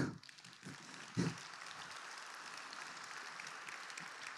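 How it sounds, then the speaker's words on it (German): Audience applause at a political lecture on peace and democracy: dense, steady clapping fills the whole stretch at an even level, with a brief louder burst near the start. "Sie dürfen nicht mehr so viel klatschen"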